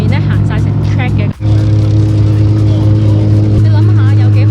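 Supercars rolling onto the Monza track at a motor show, a steady, loud engine rumble with a brief dip midway, heard under continuous commentary.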